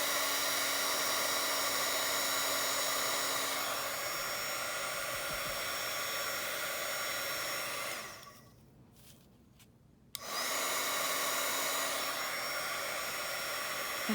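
An embossing heat tool blows a steady, loud whirring hiss while heating embossing powder on a craft journaling page, cutting out for about two seconds before starting up again.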